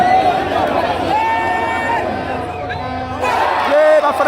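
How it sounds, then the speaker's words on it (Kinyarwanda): Rayon Sports football fans fill a stadium in Nyamirambo, Kigali, during the CECAFA Kagame Cup with a loud, continuous roar of cheering, shouting and clapping. A nearby voice talks over the crowd throughout. "abafana ba Rayon Sports dore bari gutera amashyi cyane kuri stade"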